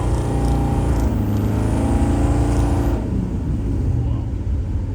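The engine of a 1957 Chevrolet Nomad pulls hard up through the gears, a loud, close, rumbling roar rising in pitch before a shift and settling lower, steady and dominant throughout.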